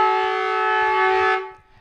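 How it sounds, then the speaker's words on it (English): A football ground siren sounds at the end of a quarter in an amateur Australian rules match, one loud sustained blare that holds steady and then cuts off abruptly, with faint crowd noise beneath. "And the siren sounds in what was a tough quarter of football"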